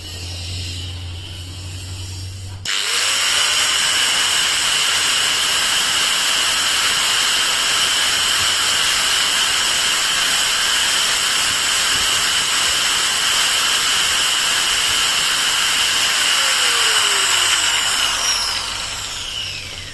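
A Total TG109125565 variable-speed angle grinder spins up to its top setting, speed 6, around 10,500 RPM. After a low idle it cuts in loud and close, holding a steady high whining roar with hiss until the end, with no talk.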